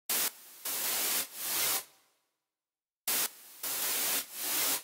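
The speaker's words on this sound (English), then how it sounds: "I turned off the oscillator and just turned on the sample, used the basic white noise" Plain white noise from a sample in the Vital synth plugin, shaped by an LFO into a rhythmic pattern of loud hissing bursts, swells and sudden cutoffs, with a brief silent gap before it repeats.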